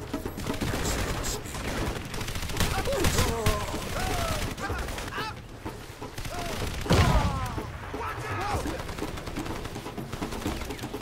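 Bursts of gunfire from the video game Crysis Warhead crackle repeatedly across the clip, mixed with dense in-game ambience and chirping effects, loud and steady throughout.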